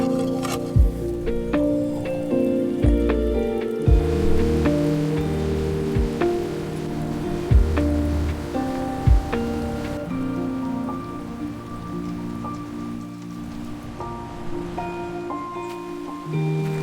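Rain falls outside a home on a rainy day, a soft continuous patter under a gentle musical backdrop with occasional low thumps.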